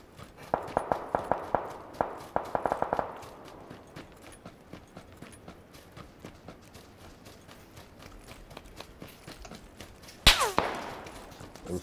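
Gunfire in the PUBG video game: two quick bursts of sharp shots early on, then scattered clicks and a louder single shot near the end, with quiet stretches between.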